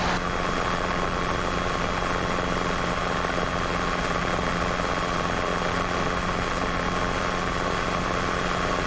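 A Robinson R22 helicopter in flight on a student pilot's mock check ride, with a loud, steady rotor and engine drone heard from inside the cabin and no break for the whole stretch.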